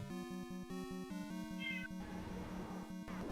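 In the Zelda 1 Randomizer game, a cat meows as a short synthesized chirp over looping chiptune background music, faint and close.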